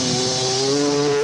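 Big KTM four-stroke rally motorcycle taking off in a desert race, a loud, close engine roar whose tone climbs steadily as it accelerates, with no talk over it.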